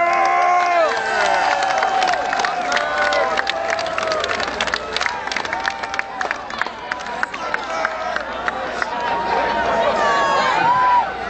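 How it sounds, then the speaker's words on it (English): A crowd at an Ozzfest wedding claps and cheers for the groom, loud and continuous, with shouts and whoops rising over the clapping and voices in the mix. "Give him a round of applause, guys"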